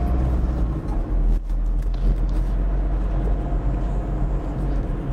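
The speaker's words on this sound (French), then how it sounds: "je vais accélérer pour passer ma troisième vitesse" A car driving through Pontault-Combault accelerates and shifts into third gear, a steady close engine drone with road rumble inside the cabin and a brief dip near the gear change.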